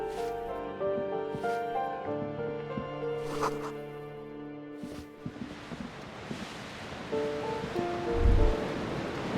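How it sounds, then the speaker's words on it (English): Ocean waves and coastal wind in the video game Disco Elysium, a broad washing surf and gusty rush under sustained musical tones and a few soft thumps, moderately loud with no speech. "The coastal wind beats down hard on the coal room door outside. Splashes of waves make the balcony slippery."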